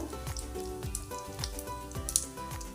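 Onion frying in a pan over a low flame for a ridge gourd stir-fry, giving a steady, soft crackling sizzle with scattered pops, continuous and fairly faint throughout, no voices.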